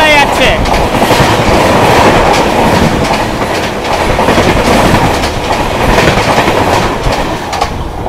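Garib Rath Express, a Guwahati–Kolkata train, roars at speed past Kalna station, wheels clattering over rail joints in a loud, continuous rush close by, with an early squeal and steady heavy rumble throughout.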